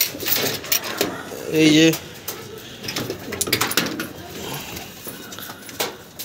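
A male Andhra pigeon coos in a breeder's loft, a short deep coo heard under someone talking close by, with scattered clicks and rustles around it.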